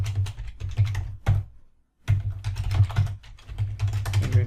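Clicking keys on a computer keyboard while entering a terminal command come in quick, close clusters with a brief silent gap in the middle, then a steady run of keystrokes to the end.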